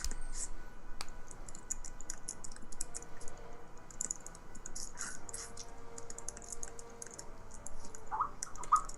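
Quick, irregular clicks of typing on a computer keyboard during an online meeting, a steady light patter of keystrokes that continues throughout, close and fairly quiet over a soft background hiss.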